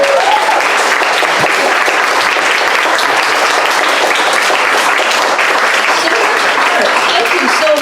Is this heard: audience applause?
yes